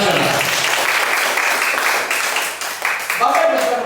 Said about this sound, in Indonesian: Tepuk tangan buat One More International.